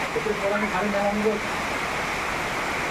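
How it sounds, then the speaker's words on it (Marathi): Heavy rain falls in a village outdoors, a dense, loud, even hiss that fills the whole stretch, with a voice talking over the start. "पाऊस पण जोरात आहे"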